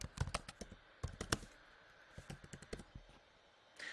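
Rapid keystrokes on a computer keyboard while a street address is entered into a time-clock setup form, a steady run of close, crisp clicks over a faint background hiss, with no voices.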